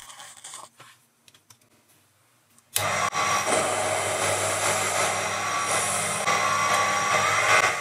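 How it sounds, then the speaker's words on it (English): A lathe labours through tough material under a heavy cut: near silence with faint ticks, then the spindle and cutting noise surge in abruptly and stay loud and steady, a dense roar with a strained edge. "the lathe struggles to produce enough torque to keep the spindle speed as fast as it should be"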